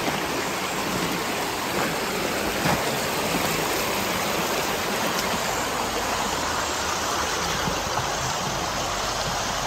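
Water rushes continuously over rocks, a dense, even, fairly loud flow with no pauses or voices.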